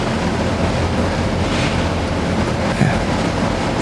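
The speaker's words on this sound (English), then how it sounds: "Right on. Trains." A train rolls past on rails with a continuous, steady rumble and faint clatter that fills the whole stretch, loud and close, with no voices over it.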